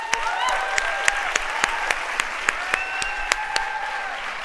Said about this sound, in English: So please extend your hands in an applaud for Olafur Eliasson